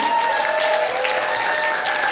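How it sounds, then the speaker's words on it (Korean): Applause from a lecture audience greets an animation director invited onto the stage, a steady dense clatter of many hands that stays loud and even throughout with no voices over it. "여러분 박수 부탁드리겠습니다"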